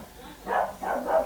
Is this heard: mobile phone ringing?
no